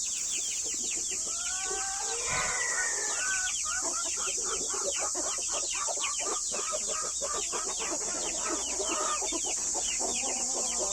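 Continuous clucking and peeping from a hen with her chicks, busy and overlapping, close by with steady chirps throughout and no talking.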